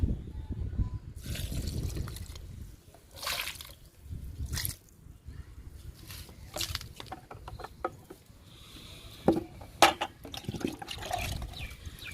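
Liquid fertilizer poured from a container onto a potted jasmine plant outdoors, a series of uneven splashing and dripping bursts with soft patter between them, moderately close, with no talking.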